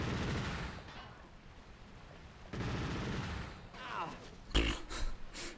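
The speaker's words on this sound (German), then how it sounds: "haben mich viele Schüsse erwischt" Gunfire in the video game Killzone Liberation: bursts of dense, noisy shots come in separate waves, ending with a loud sharp blast and a few closer cracks, with no voices over them.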